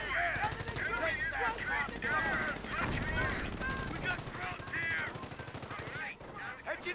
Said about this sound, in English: Engineers taking fire.